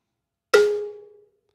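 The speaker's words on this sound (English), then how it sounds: "we're only hearing the delay at the output and none of the dry path" A single delayed hit rings out alone after a moment of silence, only the wet delay signal with no dry path, a sharp metallic attack that fades quickly with a short tail.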